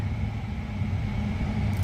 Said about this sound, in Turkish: Bu arada arabanın kliması çalışıyor görünüyor.